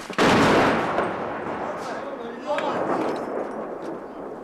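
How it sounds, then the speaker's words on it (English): Russian artillery shells landing close by in a war zone among Ukrainian homes: one heavy blast near the start rolls into a long rumbling roar, followed by a lesser thud and lingering rumble, with no talk. "shells start landing closer as the Russians adjust their aim"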